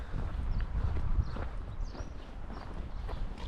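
Horses walk along at a steady pace, their hooves clip-clopping softly and somewhat distantly over a continuous low rumble of outdoor background noise, with no speech.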